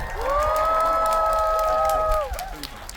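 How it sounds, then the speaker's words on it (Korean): Cinema audience during a stage greeting before a film screening claps and cheers loudly; high shouts and whoops ride over dense clapping, then it begins to ease. "배우분들 시원한 박수 한번 부탁드릴게요."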